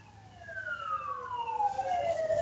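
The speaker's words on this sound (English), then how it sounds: "Yeah, I can hear the sirens here." A siren wails outside with a steady sweeping tone gliding down in pitch, fairly distinct over low background rumble, continuous throughout.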